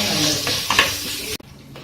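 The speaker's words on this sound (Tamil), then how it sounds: "வெங்காயம் பொன்னிறமா வதங்குற வரைக்கும் வதக்கிக்கிங்க." Large onions frying in a pan for a lamb intestine curry, a soft sizzle with a couple of stirring scrapes and a clink before the sound drops away.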